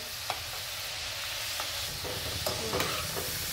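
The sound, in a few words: wheat flour valiv laddus deep frying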